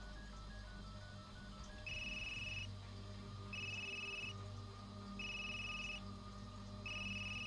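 A phone call rings in the Unheard video game: four evenly spaced electronic ring bursts, each lasting under a second, over a low background hum.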